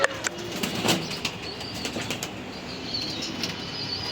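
Racing pigeons bathing in water flap their wings in quick, fluttering bursts nearby, with splashy rustling and a soft coo now and then. No one speaks.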